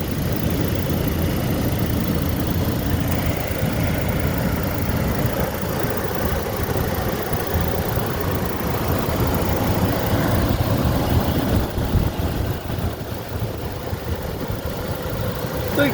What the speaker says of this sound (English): so you can hear probably the engine in the background